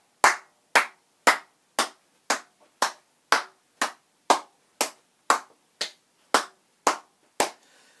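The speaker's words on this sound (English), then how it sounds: "Why not just have a go at everybody walking around and clapping at that pace?" A group claps in unison while walking, sixteen sharp, evenly spaced claps at a steady pace of about two per second, crisp and close with silence between.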